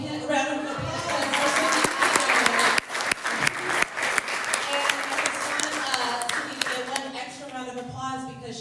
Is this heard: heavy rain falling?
no